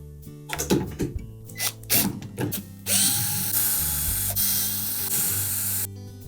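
A ratchet wrench loosens the 3/8-inch hex head mounting bolts on a Whirlpool refrigerator's front roller assembly, with several quick bursts of clicking followed by a longer steady hiss-like rush, close and loud, no voices.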